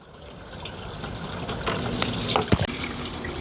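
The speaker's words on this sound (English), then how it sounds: "That is pumping a ton of water." A MaxiJet pump in a saltwater quarantine tank fitted with a diverter pushes water steadily, making a constant rushing, gurgling flow with a few louder splashes near the end, close by and without voices.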